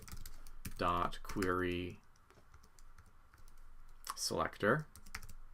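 A computer keyboard clicks in a quick, light patter of keystrokes under a man's speech, with short bursts of typing between his phrases.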